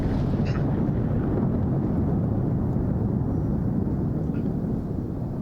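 Pilatus PC-24 business jet departing in Microsoft Flight Simulator 2024, a steady, loud, low engine roar that holds unbroken throughout with a broad rumbling wash and no voices.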